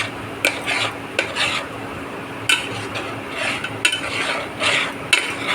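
A spoon scrapes and stirs around a pan of homemade ghee in repeated strokes with clinks against the metal, over a soft, steady background sizzle.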